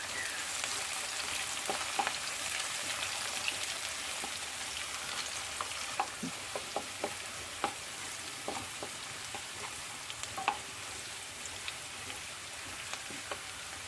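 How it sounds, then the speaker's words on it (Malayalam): Onions sautéing in a pan for Kerala-style vegetable kurma, a steady broadband sizzle running the whole time with scattered clicks and taps from stirring, close and moderately loud, no talking. "നമ്മൾ സബോള കൊടുക്കാം ഒരുപാട് മൂക്കൊന്നും വേണ്ട ഒന്ന് വഴണ്ട് വന്നാൽ മതി"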